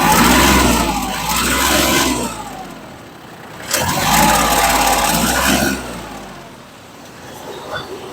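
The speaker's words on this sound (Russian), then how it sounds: "Сейчас подставлю микрофон у нас к двигателю, чтобы было понятно." A Kubota GL200 mini tractor fitted with a soil tiller runs its engine up close, the motor rising and falling in two long surges with a steady mechanical drone between them.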